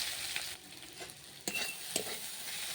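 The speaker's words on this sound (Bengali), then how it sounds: "চলো ডিমটাকে একটু নেড়ে করে ভেজে নেবো একটু ভালো করে" Egg fries in oil in a pan, a faint steady sizzle broken by a few sharp stirring scrapes.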